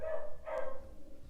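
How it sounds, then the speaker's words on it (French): A pet dog guarding the house lets out a single short bark from inside, close and clear, rising over a low steady room hum. "il y a mon toutou qui garde la maison avec aboie"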